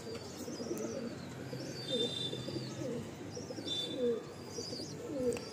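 A male loft pigeon coos in soft repeated rolling calls, close but quiet, with faint chirps from other birds in the background.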